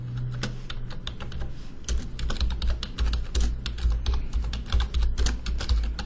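Rapid, uneven keystrokes clatter on a computer keyboard as a description is typed into SAP software, close and continuous with brief pauses between bursts.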